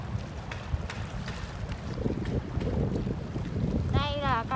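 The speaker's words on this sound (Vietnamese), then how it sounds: "Gió rất là mạnh luôn." Strong wind gusts past a barge on a river, a steady broadband roar with low rumble throughout, joined near the end by a brief high warbling chirp.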